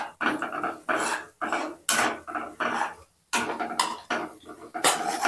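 A spoon scrapes and clatters rhythmically in a pan while turmeric is stirred into an okra fry, repeated close strokes of metal on metal with short pauses between, loud and without talk.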